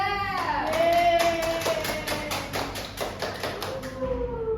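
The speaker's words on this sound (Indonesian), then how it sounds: "beri tepuk tangan untuk kelompok 2" Class of primary-school pupils clapping for a group, a rhythmic burst of sharp, fairly close claps in unison over several seconds, with a teacher's voice heard over it at the start and end.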